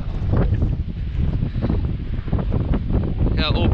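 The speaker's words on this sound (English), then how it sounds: "Man, it is windy and it's cold." Strong gusting wind buffets the microphone outdoors on a cold day on the water, a loud, continuous roar that swells and dips throughout, with a brief higher whistle near the end.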